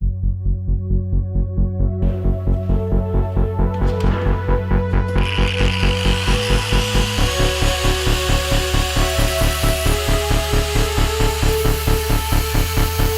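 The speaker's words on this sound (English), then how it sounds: "There we go, got the terminals cut down a little bit shorter." A power tool cuts down the metal battery terminals during a battery relocation in a Firebird drift car build, a loud steady machine whine with a rapid pulsing rhythm that rises sharply in pitch partway through as the blade bites in.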